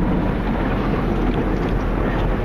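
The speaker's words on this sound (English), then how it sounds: "There goes the cloth curtain on the back." Inside a car at an automatic car wash, a cloth curtain drags across the back of the vehicle, heard as a dense, steady broadband rush and rumble without pause.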